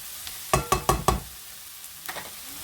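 Turkey gizzards tossed in a wok, four sharp rhythmic clanks of metal on metal in quick succession, then a softer cluster of scrapes over a faint sizzle.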